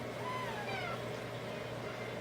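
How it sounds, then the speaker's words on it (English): A young kitten meows softly with a few thin rising calls early on, faint against steady room noise. "He's a little kitten."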